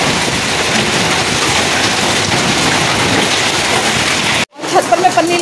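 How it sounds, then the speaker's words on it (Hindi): Hailstones pelt a car and an open courtyard in Roorkee during a winter storm, a dense, steady patter like heavy rain that cuts out abruptly near the end before a softer clatter returns. "और ये देखिए इस तरह आंगन में ओले पड़ रहे हैं।"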